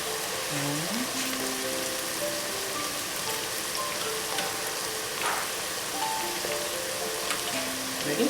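Onion and carrot sautéing in a pan, a steady close sizzle running throughout with faint background tones and no talk.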